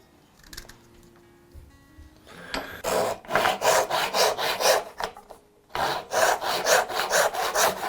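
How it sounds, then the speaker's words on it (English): Magnets sliding along a wooden kitchen board, rhythmic rubbing scrapes repeated back and forth in quick strokes, close and crisp, with quieter handling noises before and a brief pause midway. "So if I slide these magnets all the way to the end"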